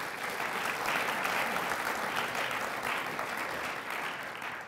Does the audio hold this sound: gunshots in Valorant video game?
no